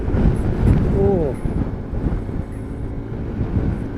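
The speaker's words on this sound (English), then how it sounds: "typhoon wind" Strong typhoon wind roars and buffets the microphone while riding through the rain, a dense, continuous rushing noise, with a brief voice and a short whistling tone partway through.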